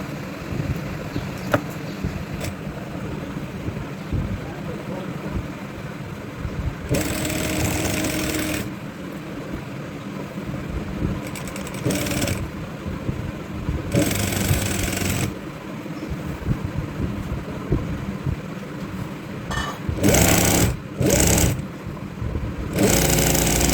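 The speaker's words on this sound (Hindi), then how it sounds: "अब हम इसकी सिलाई लगाएंगे।" A sewing machine stitches trouser fabric in short repeated bursts of rapid mechanical whirring and clatter, separated by quieter pauses and handling sounds, with no talk.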